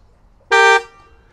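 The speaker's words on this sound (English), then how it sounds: "blow the horn on my car." Tesla car horn set off remotely by a voice command: one loud, steady honk lasting about a third of a second in an otherwise quiet setting, followed by a short fading tail.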